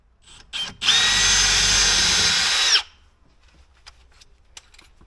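A power drill whines loudly for about two seconds while driving a screw into the end grain of wood, preceded by a couple of short clicks and followed by quiet faint handling noises.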